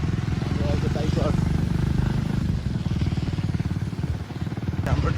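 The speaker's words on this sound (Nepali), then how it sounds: "अब हाम्रो बाइक फर्स्ट टाइम यहाँबाट उता जाँदैछ आज" A motorcycle carries its riders along a road in Palpa, Nepal, its engine giving a steady, loud, continuous drone while a voice talks over it.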